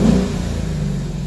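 A stock 2017 Ford Mustang GT engine, heard from inside the car, gives a brief loud deep revving growl that eases slightly toward the end.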